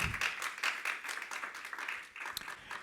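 A church congregation claps for the Lord during a sermon, a quiet, uneven patter of hands that rises and dips, with faint voices mixed in.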